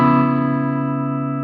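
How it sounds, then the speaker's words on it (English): An electric guitar with a Strat's neck pickup, volume knob rolled down to clean up a King Pomelo Happy Waitress fuzz pedal (Electra variant), rings out as a single sustained chord, loud and steady as it slowly decays, with no talk. "So I'm going to be between 10 and 5 on my volume knob on a Strat. And here's my clean tone."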